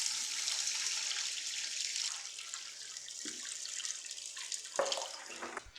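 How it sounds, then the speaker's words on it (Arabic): Plain water poured from a tap onto coarse salt to make olive brine, a steady flowing stream at moderate level followed by a few short splashes and drips near the end. "منحضر المي لكبسة الزيتون، ملح خشن"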